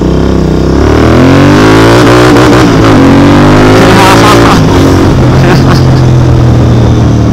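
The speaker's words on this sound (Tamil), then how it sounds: "டனல் சவுண்டு பார்க்க போகிறீங்க." A Royal Enfield Continental GT 650 motorcycle revs hard inside a tunnel, its loud engine note climbing and falling in repeated swells that echo continuously throughout.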